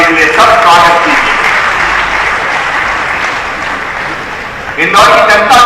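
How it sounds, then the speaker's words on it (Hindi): An audience applauds Indore's fourth straight win as India's cleanest city, a loud sustained clapping that dips slightly mid-way, with voices and talk audible at the start and end. "तालियां बजाए इस उपलब्धि के लिए सब स्वागत कीजिए।"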